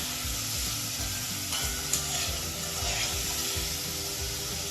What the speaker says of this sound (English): I'm going to put in the seasoning first because I want the saltfish to cook up a bit, get a little crispy